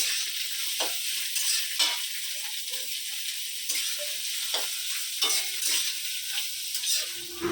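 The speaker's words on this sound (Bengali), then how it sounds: "প্রথমেই দি ফ্রাইড রাইস করে নেবে" Fried rice is stir-fried in a pan over steady sizzling, with a spatula scraping and tossing the rice in repeated strokes, close and clear with no talking.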